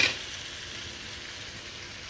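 Brinjal and chana dal curry sizzles steadily in a pan over a low flame, a soft, even frying hiss that holds for about two seconds after a brief louder start, with no talking.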